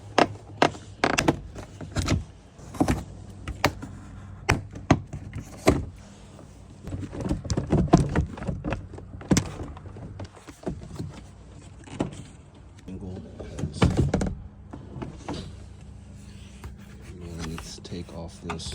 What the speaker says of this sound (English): This is how you take off the interior door trim